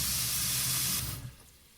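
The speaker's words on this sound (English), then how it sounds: "So step one is to fill the sink with water." Kitchen tap running cold water into a sink, a loud, steady close-up gush lasting about a second before it is shut off and the sound falls away to quiet.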